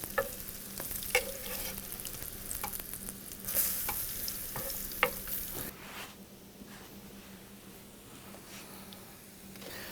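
Food sizzles steadily in a hot pan after being turned over, a continuous crackling fry with occasional ticks and scrapes from stirring, fading somewhat toward the end.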